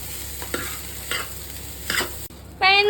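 An egg fry mixture gets stirred in a hot pan, with a soft background sizzle and several distinct scraping strokes, then a brief pause followed by a louder burst of frying at the end.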